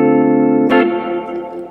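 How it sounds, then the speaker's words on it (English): A sustained electric guitar chord played through a Korg Pandora Stomp multi-effects pedal rings out with a spacious reverb tail, a strummed accent midway, then the wash slowly fading. "Reverb sounds really good on it"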